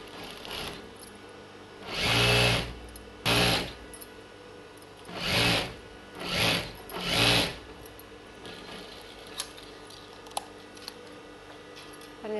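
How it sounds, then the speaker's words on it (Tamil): Sewing machine stitching the seam of a child's silk pattu pavadai blouse in five short, whirring bursts with pauses between them, close and fairly loud over a quiet room. "கைடு அளவுக்கு தையல் போட்டு வரலாம்."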